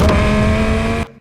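Cinematic designed car engine effect with a gear change, a loud sustained revving tone that holds steady and then cuts off sharply near the end.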